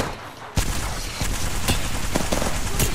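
Gunfire in Apex Legends: a sharp shot opens, then a steady stream of rapid shots and crackling bursts continues close and loud for a few seconds.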